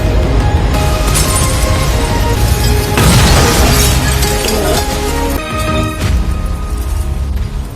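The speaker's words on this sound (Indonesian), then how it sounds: "Sehingga hal itu menyebabkan bola kristal itu pun hancur berkeping-keping." An anime crystal ball shatters into pieces during a magic practical exam, a loud sustained crash with a burst of breaking and tinkling debris that fades toward the end.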